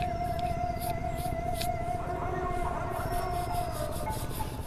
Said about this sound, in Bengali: এইভাবে হালকা করে একবার ঘষে নেব।